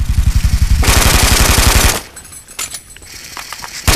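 Rapid automatic gunfire from a fast-reloading 60-round gun in the shooter game Brink, a loud dense burst lasting about two seconds, then quieter clatter and a final shot.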